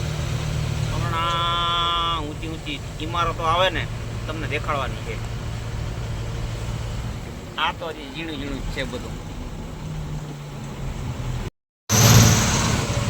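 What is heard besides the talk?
car driving through Mumbai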